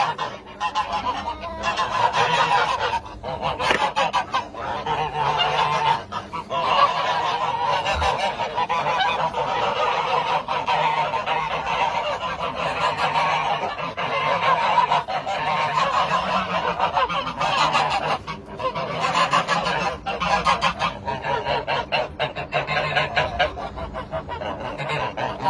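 A goose honks loudly and almost continuously near its nest, harsh repeated calls filling the whole stretch at close range with brief pauses between bursts.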